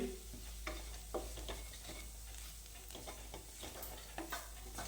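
Turmeric stirred into a sizzling pan while making Radhanagari-style dudh amti, a Maharashtrian milk curry: steady close frying sizzle with repeated scraping stirs, no voices.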